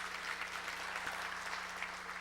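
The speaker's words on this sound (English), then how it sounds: "some of the round of applause should be for all of you" Audience applause fills a hall at a foreign policy forum on the future of the United Nations, a dense even wash of clapping that continues steadily throughout, fairly distant and alone.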